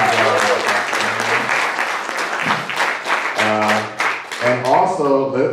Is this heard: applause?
yes